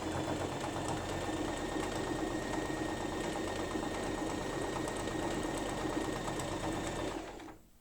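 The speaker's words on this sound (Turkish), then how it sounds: "Dikmeye başlıyorum burayı da itiyorum." A sewing machine stitches a lining for a knitted bag, running in a continuous, even mechanical whir with a rapid needle rhythm and steady hum, close and loud, before cutting off abruptly at the end.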